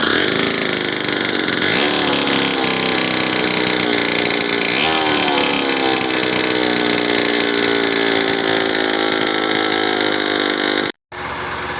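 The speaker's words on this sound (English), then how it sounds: "So I'm back together now with coolant in, exhaust on, and it's running, ticking over nice." A Kawasaki KMX 125 two-stroke motorcycle, freshly rebuilt with a new crank seal, flywheel and top end, idles loudly and steadily up close for about eleven seconds before cutting out abruptly, then catches again.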